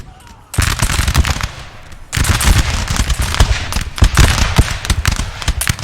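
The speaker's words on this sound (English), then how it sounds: "The guard is now starting to open fire" Massed musket volleys from Napoleonic guard infantry in the Total War strategy game Napoleon, a dense crackling fusillade that starts after a brief lull and rolls on loudly and continuously, with a short dip before a second heavy wave.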